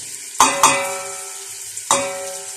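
Ginger and garlic fry with browning onions in a pan, a steady close sizzle broken by three sharp clanks of a stirring utensil against the pan.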